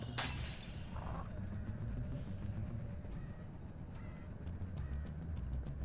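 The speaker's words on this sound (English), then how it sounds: "Someone heard that clue getting smashed" A clue bottle shatters with a sharp, brief glassy crash in Sly 2. The smash opens the moment, then low rumbling game ambience with faint clicks follows, and no one speaks.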